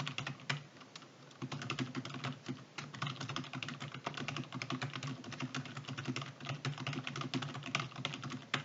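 Keys clatter on a computer keyboard during spreadsheet entry in Excel, a fast, irregular stream of close, light clicks that continues throughout.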